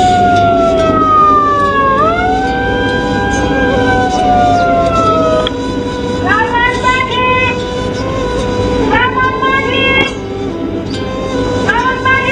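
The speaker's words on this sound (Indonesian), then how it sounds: "diawali dengan suara sirene" A siren wails in rising and falling sweeps to summon children to a mountain-top school at six in the morning, loud and continuous, with distant voices underneath.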